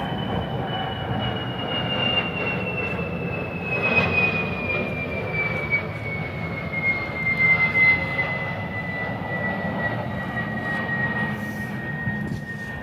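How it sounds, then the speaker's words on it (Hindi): An airplane passes overhead with a steady engine roar and a slowly falling whine, loud and sustained throughout with no talk over it. "अभी जो है एरोप्लेन यहाँ से निकल रही थी जिससे इसकी आवाज़ आ रही थी"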